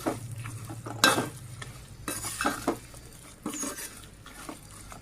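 Mutton pieces for pickle are stirred in a pan, a utensil scraping and clattering in irregular bursts over a steady low sizzle, close and fairly loud, with no voices.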